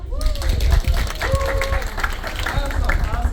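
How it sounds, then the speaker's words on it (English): A room of people claps for volunteers called up on stage during a body-language talk, a steady broadband patter of applause with crowd noise and voices mixed in throughout. "Please clap for them."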